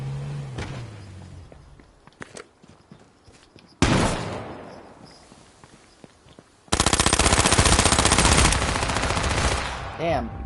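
Gunfire in the video game H1Z1, with scattered single shots and clatter early on, then a sudden loud burst and a dense sustained rapid-fire volley toward the end.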